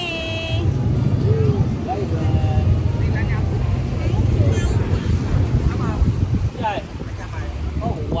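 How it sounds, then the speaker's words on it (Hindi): A boat ride off Phu Quoc island carries a continuous engine rumble mixed with heavy wind buffeting the microphone, while people chat over it. "यहाँ पे हमारी हो रही है बोट राइडिंग"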